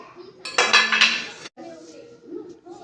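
Metal kitchen utensils, a tawa, spoons and a kadhai, clatter and clink together in one close burst lasting about a second, followed by a person talking.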